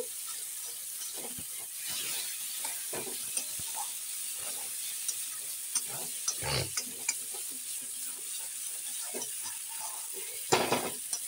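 Spice paste being sautéed for a rui fish curry without onion or garlic, stirred in a pan with a steady sizzle and intermittent scraping and clinking of the spoon, close and fairly quiet.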